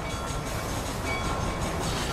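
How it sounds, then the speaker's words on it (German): A train rolls along the rails in Red Dead Redemption, giving a steady, loud rumble with a faint clatter that runs unbroken through the whole stretch, with no talking. "Fahren wir den Zug zum Lager der Armee."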